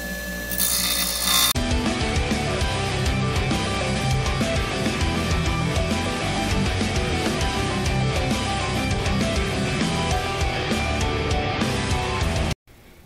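A bench grinder at a sharpening station grinds a hollow bevel onto a tool edge, giving a loud, steady abrasive rasp that runs almost unbroken for about eleven seconds before cutting off abruptly.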